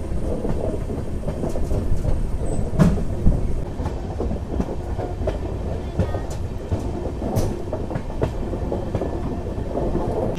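Tirupati–Secunderabad SF Express, an LHB rake on its first run, moving at speed past Dharmavaram, with a steady loud rumble and rattle of carriages on the track throughout.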